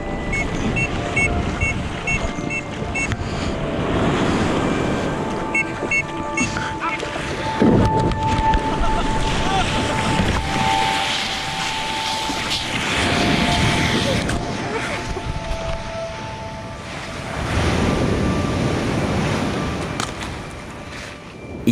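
A tour boat heading back to shore through waves off the Hualien coast of Taiwan, heard as a continuous rushing roar of engine and water with heavy wind buffeting the microphone, swelling and easing in waves.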